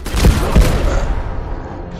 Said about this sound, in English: Did they shoot my Molotov out of the air or something?